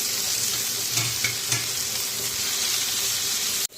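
Boiled taro flowers sizzle in a hot pan after being added to spiced cooking paste with cumin powder, the steady frying hiss broken by a few soft stirring scrapes and clatters.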